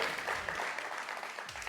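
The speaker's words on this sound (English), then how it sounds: "We're clapping." Audience clapping at a two-year anniversary celebration, a steady, moderate wash of many hands that holds evenly for under two seconds with no voices over it.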